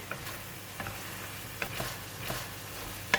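Faint sizzling of cauliflower stir-frying in a pan with curry powder, with soft scraping stirs every half second or so, quiet and irregular, no voices.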